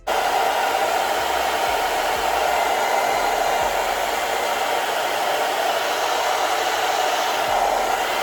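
A hair dryer blows on a wig with a loud, even rushing hum throughout, broken only by a few faint clicks.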